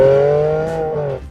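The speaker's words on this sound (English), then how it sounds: "What are you supposed to listen to? That V12?" A Ferrari Enzo's V12 engine revs loudly and close for just over a second, the tone holding steady and then dropping away as the revs fall.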